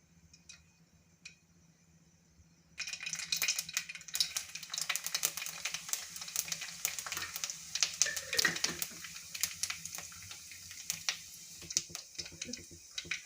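Mustard seeds and cumin crackling in hot oil in a kadhai, a close, steady fizz with rapid sharp pops that starts abruptly after a few quiet seconds and continues densely to the end.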